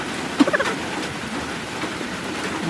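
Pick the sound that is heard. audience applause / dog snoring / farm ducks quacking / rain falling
rain falling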